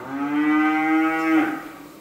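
A single long, loud moo from breeding and feeder cattle in the main pen of a livestock supplier's barn, rising into a strained bellow near the end and fading away, with no other sounds.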